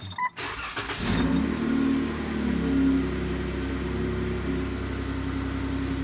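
A 2013 Jeep Wrangler JK, fitted with a newly installed throttle body, cranks briefly and catches. Its engine swells in a short rev, then settles into a steady idle, heard alone and fairly close.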